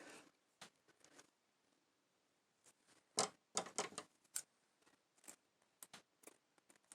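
Scissors trimming lace: scattered sharp snips and crisp cutting clicks, irregular and close, with quiet pauses between bursts; several quick cuts cluster in the middle.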